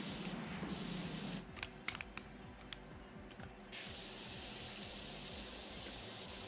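Wide-nozzle pressure washer spraying in PowerWash Simulator, a steady broad hiss of water jet that drops away briefly midway, then resumes at full strength and continues alone.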